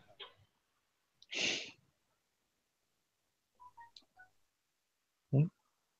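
Phone keypad tones beep a few times in a quiet room during a podcast recording, short electronic presses spaced apart between a breathy exhale and a brief vocal noise.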